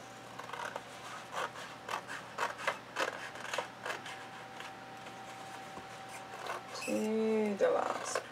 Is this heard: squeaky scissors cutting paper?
yes